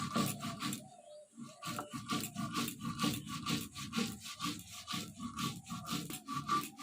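Black and white mustard seeds and poppy seeds are ground together by hand in a village kitchen, making a rhythmic, repeated rough scraping and rubbing, close and steady with brief pauses.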